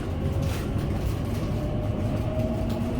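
London Underground train bound for Abbey Wood via Canary Wharf, running with a steady low rumble and rolling hum throughout, fairly loud and close, no talk over it.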